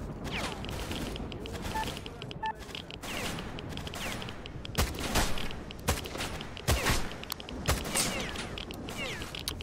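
Pistol gunfire in a Ukrainian-made video game: a string of sharp shots and bursts cracks over a busy mechanical game soundscape, with some shots louder and closer than others.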